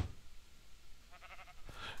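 A sheep bleats once in the video game Minecraft, a short wavering call that sounds faint and distant over quiet game background noise.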